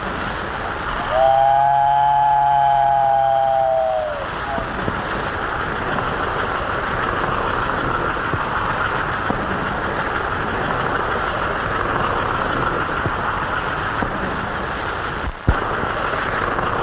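An American Flyer model train runs on a club layout. A brief, loud electronic whistle sounds first, then a steady, even rolling rumble of the running train continues alone.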